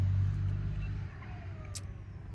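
Dump truck engine idling close by with a steady low rumble, fading slightly after the first second, and a brief high turbo whistle near the end.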